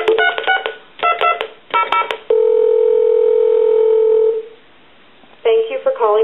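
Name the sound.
dialing a number on a telephone, dial tones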